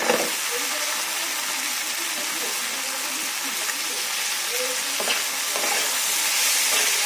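Carrot frying and being stirred in a hot pan gives a loud, continuous sizzle with scraping stirs breaking through now and then.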